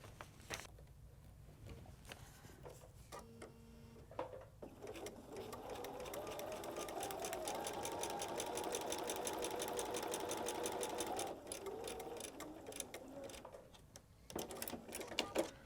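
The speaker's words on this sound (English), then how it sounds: "let's go sew" Sewing machine stitching foundation paper piecing, a faint steady rapid mechanical patter that runs for about ten seconds with quieter handling noises before and after, no talking.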